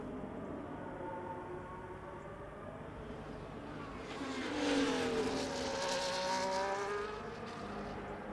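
An F1 car in the video game F1 24 runs down a straight, its engine whine rising and sweeping through the gears as it passes close and loud, then fading slightly.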